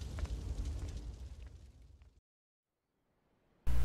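A loud explosion erupts in GTA Vice City, a booming blast that rumbles and fades over about two seconds, followed by sudden silence and then a harsh burst of noise at the very end.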